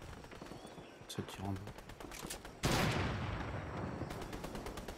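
Fortnite gunfire in a rapid volley of close shots, then a loud burst that rings out and decays, with further quick reports at the end; someone speaks French over it.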